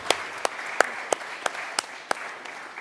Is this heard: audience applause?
yes